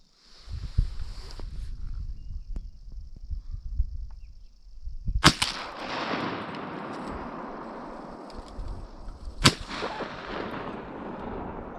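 Two loud shotgun blasts at ducks during a spring duck hunt, each a sharp crack with a long rolling echo across open water, spaced a few seconds apart over rustling and wind.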